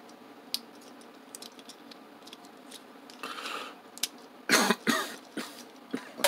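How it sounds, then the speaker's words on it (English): Quiet clicks and taps are followed by a few close, breathy coughs and throat clearing, with faint tapping between them. "have a little coughing moment"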